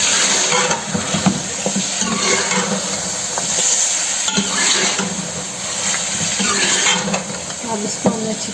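Chicken pieces browning in hot cooking oil with ginger-garlic paste for a traditional chicken qorma give off a loud, steady sizzle and crackle, with occasional stirring scrapes in the pan.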